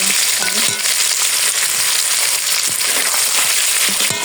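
Paneer fries in hot oil with a pinch of asafoetida, a loud, dense sizzle that carries on steadily throughout, punctuated by occasional stirring clicks.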